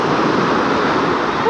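Sea waves wash in a steady, loud, continuous roar of surf with no break.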